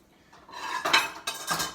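Rice and turmeric are stirred together in a dish, giving a few short, close scraping and clinking strokes of utensil against the bowl.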